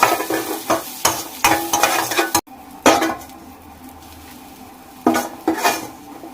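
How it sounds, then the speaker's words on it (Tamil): Onions frying in a pan that was just used for shrimp, with loud close clanks and scrapes of a metal spoon against the pan in bursts over a sizzle. A brief quieter pause falls in the middle. No one speaks. "இதிலே வெங்காயத்தையும் போட்டு சூடு பண்ணிடுங்க."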